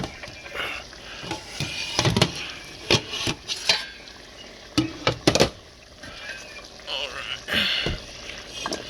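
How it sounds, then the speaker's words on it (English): Potatoes and carrots tumble into a pot of home-cooked turkey soup, with irregular clattering knocks and splashes of varying loudness close by. "Then we'll add our potatoes and our carrots."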